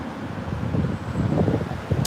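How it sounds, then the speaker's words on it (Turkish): Wind buffets the microphone in low, steady gusts outdoors, a continuous rumbling roar with brief flutters toward the end. "burası bayağı rüzgarlı, zor"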